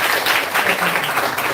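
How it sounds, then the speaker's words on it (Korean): A church congregation applauds warmly for Yedam Church, dense overlapping clapping from many hands filling the room evenly for a short burst, with a faint voice underneath. "예담교회 축복하며 뜨겁게 박수 한번 주세요."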